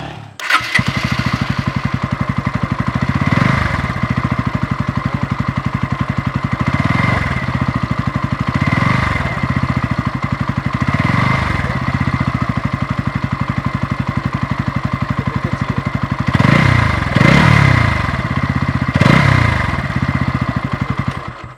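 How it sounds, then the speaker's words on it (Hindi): A Bajaj Pulsar NS 160 BS6 motorcycle's single-cylinder 160cc engine idles loud and close, with a steady bassy exhaust thrum and a few brief throttle blips, alone with no talk. "लाउडनेस की बात करें तो यहाँ पे NS का एग्जॉस्ट नोट जो है काफ़ी बढ़िया आपको सुनने को मिलता है।"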